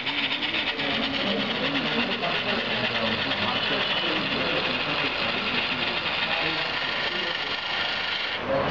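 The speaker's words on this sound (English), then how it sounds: "So you can see here, the cabin shifting the vehicle to the slot 1." Automatic RFID sky car parking system with its cabin shifting a vehicle into a slot, a steady motorized whirring and grinding drone, close and continuous until it stops near the end.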